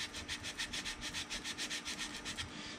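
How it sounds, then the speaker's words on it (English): Sandpaper rubbed back and forth across a plastic Polar Lights 1:350 scale TOS Enterprise model part, a steady run of about fourteen quick, even strokes, close and fairly quiet with no talk. "you want to make sure you sand this little spot right here across this way"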